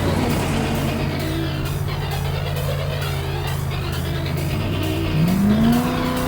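A Ford F100 truck with a 350 crate engine driving on the street, a loud steady engine drone with road and wind noise, the revs rising toward the end as it accelerates.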